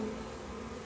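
Honey bees buzzing around a hive box, a dense continuous drone of many insects, close and steady for the full second.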